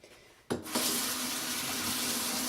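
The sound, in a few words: running tap water rinsing off sugar scrub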